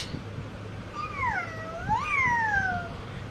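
A voice imitates a cat's meow, one drawn-out, wavering call that rises and falls, heard fairly close over a quiet, low background hum.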